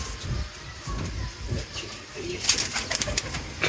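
Pigeons in a home loft setup coo softly at close range amid low rumbling background noise and scattered brighter rustling sounds.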